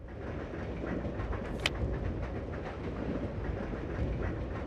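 A moving train rumbles steadily through the video game Resident Evil 0, a loud, continuous low roll with faint rhythmic clatter and one brief sharp metallic squeal, without speech.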